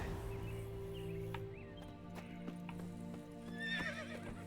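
Roach, the horse in The Witcher, gallops with steady clip-clop hoofbeats and a whinny near the end, set against an ambient game music bed.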